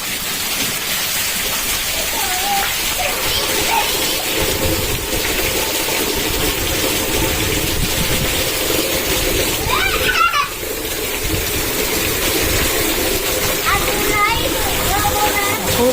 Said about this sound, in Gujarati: નદી આવી ગઈ નદી નદી આવી ગઈ